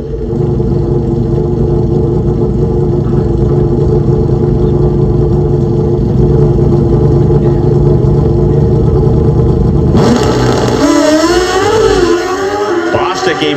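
Loud, constant roar of Pro Stock drag racing motorcycles with four-cylinder Suzuki engines at the Pacific Raceways NHRA Northwest Nationals, then a sharp full-throttle launch near the end with rising engine pitch as the bikes pull away.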